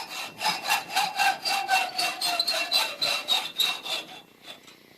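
A bolt end being sawn off by hand: about a dozen fast, regular back-and-forth rasping strokes, close and loud, with a faint rising metallic ring, thinning out at the end.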